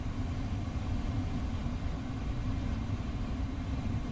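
Nissan Versa Note engine idling at operating temperature, a steady low hum that holds even and continuous throughout, close by with no talking.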